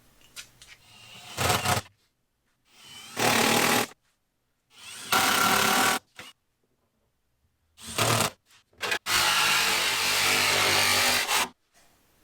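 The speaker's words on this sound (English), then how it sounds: "the big one being the jigsaw with the metal cutting blade" A jigsaw fitted with a metal-cutting blade cuts through the rear tub of a Jeep Wrangler in loud, harsh buzzing bursts of one to several seconds, separated by short pauses.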